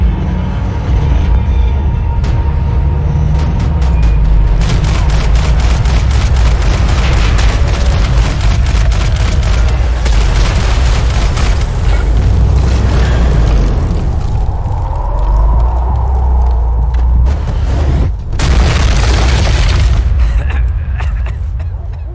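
Booming explosions and bursts of gunfire from Max Payne 3 fill the scene, loud and dense with heavy low rumble, metallic clatter and a few sharp blasts throughout.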